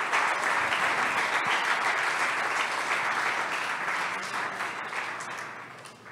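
A church congregation applauds in a sustained, dense wash of clapping that holds steady for several seconds and then gradually thins out toward the end.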